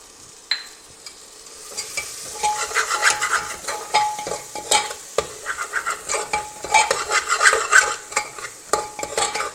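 Half-cooked tomatoes with chilli powder are stirred in a pan, a spoon scraping and clinking against metal in quick irregular strokes over a soft sizzle, fairly close and loud, no voices.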